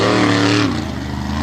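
A modified monster truck engine revs hard during a competition on a track, a loud, close roar whose pitch climbs and then drops as the throttle eases.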